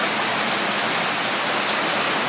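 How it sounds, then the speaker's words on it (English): A downpour of heavy rain roars constantly over flooded streets, a thick, loud wash of falling water that holds level throughout with no talking. "This is like the best rain we've had ever here in our life."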